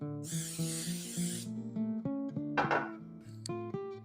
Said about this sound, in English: I'm going to spray a small cookie sheet with some cooking spray.